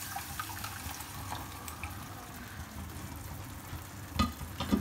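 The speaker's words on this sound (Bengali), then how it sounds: "আমি যে ডালটা আগে থেকে সিদ্ধ করে রেখেছিলাম সেটা আমি দিয়ে দিচ্ছি" Boiled lentils tipped into a pan of frying onion and spice masala for dal fry, giving a steady close sizzle and soft wet stirring, with a couple of louder clunks near the end and no talking.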